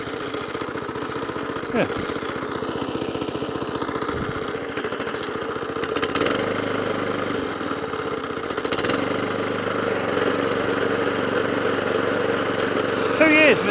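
A Kawasaki FJ100 engine on an Atco Suffolk Punch mower idles steadily with a low, even mechanical rumble and some rattly knocking, close by, and a brief word is spoken over it.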